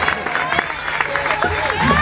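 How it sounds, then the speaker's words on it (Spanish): A party crowd at a birthday celebration claps and cheers for a departing performer, loud and close with voices and chatter mixed through the applause. "Fuerte el aplauso para el pelado que se nos va"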